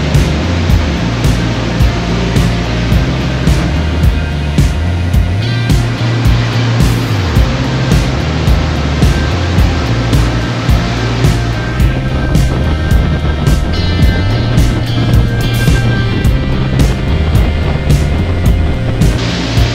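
A motor boat speeds over choppy North Sea waves on the run to IJmuiden, its engine droning loud and close while water slaps and rushes against the hull in a continuous, rough roar.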